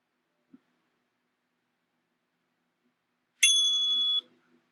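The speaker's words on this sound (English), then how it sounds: "It basically is a workout timer, and what I did was I set it every 10 seconds. It's going to make a noise." A workout interval timer sounds one loud, bright electronic beep of about three-quarters of a second after a long stretch of silence, preceded by a faint tick.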